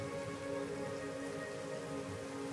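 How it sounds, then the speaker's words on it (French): A steady, soft patter of rain falls continuously and evenly, faint and close, with a faint tonal hum beneath and no voices. "glissez sous ce rideau de pluie bienfaisante"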